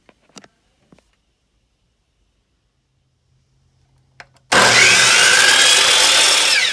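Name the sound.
compound miter saw cutting wicker seat frames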